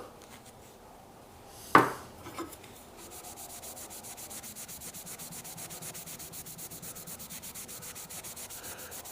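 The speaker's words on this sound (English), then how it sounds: "if you want to take it further, you just keep polishing it a little bit" Cold-blued steel being polished by hand to lighten the bluing, a sharp scrape near two seconds followed by steady, rhythmic rubbing strokes, close and fairly quiet, with no talking.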